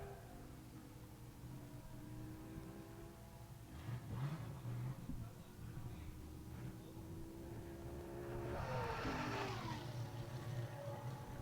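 A 2008 Corvette accelerates down a drag strip at a high-speed event, its engine a steady broadband roar that swells louder toward the end, with a faint whine and surging rise near the close.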